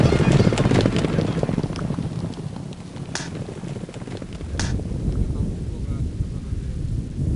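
Dense, continuous drumming of hoofbeats from galloping horses, loud and steady throughout, with a couple of sharp cracks partway through.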